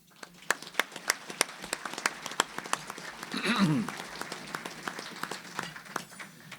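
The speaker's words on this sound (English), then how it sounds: "let's give the platinum sponsors their own round of applause" Scattered applause from a breakfast-event audience for platinum sponsors, individual claps popping at moderate distance over a murmur, with a voice swelling briefly in the middle.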